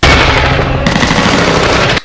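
Continuous loud automatic gunfire from an action movie fills the whole stretch, a dense unbroken burst that cuts off abruptly at the end.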